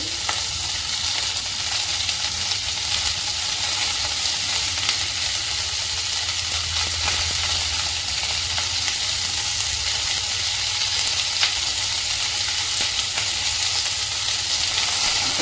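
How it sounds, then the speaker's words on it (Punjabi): Long potato pieces frying in hot oil in a pan, a steady, loud sizzle that holds unbroken throughout with no voices over it. "ਹੁਣ ਚਲਾ ਲਾਂਗੇ ਇਹਨੂੰ ਕਰਕੇ ਇਹਦੇ ਵਿੱਚ ਪਾਵਾਂ ਜੀ ਮੈਂ ਆਲੂ ਦੇ ਦੋ ਚਾਰ ਪੀਸ ਲੰਬੇ ਲੰਬੇ"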